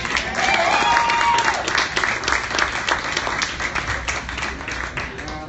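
A concert audience in a small club claps and applauds, a dense burst of many hands that is loudest at the start and thins gradually over several seconds.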